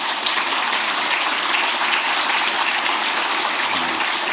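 Sustained applause from an audience of senior public officials at a presidential address, a dense, even wash of clapping that holds steady for the whole stretch with no voices over it.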